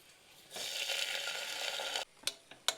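Rice being fried in ghee with spices and chopped carrot gives a sizzling, crackling hiss that rises suddenly, holds for about a second and a half, then stops, followed by a few short stirring scrapes.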